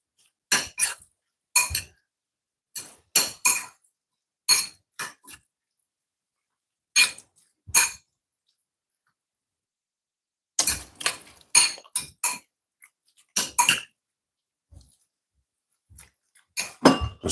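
A utensil stirs filling in a bowl, making sharp, close clinks and taps against the bowl in short irregular clusters, with quiet gaps between them.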